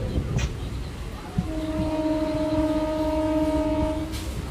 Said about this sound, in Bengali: train Singur station ছাড়ল